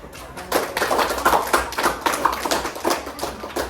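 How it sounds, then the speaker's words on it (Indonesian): A classroom of students claps for a classmate, a dense, continuous patter of many hands that swells and eases slightly across a few seconds. "Oke, beri dulu tepuk tangan untuk temannya."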